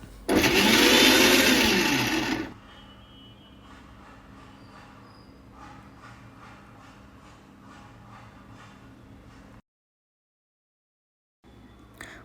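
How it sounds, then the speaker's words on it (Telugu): A kitchen mixer grinder blends pomegranate juice with beetroot, cucumber, amla, mint, lemon juice and a glass of water. A loud, steady motor whine lasts about two seconds and then cuts off, leaving a low hum, a brief silence and a faint return. "మిక్సీ వేసుకోవాలి."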